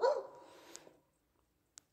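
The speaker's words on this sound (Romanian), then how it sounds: "Bietul cățel, uite cum e acolo." A small dog gives a brief bark or yelp outdoors on a cold winter walk, followed by a single faint sharp yip, fairly close in quiet surroundings.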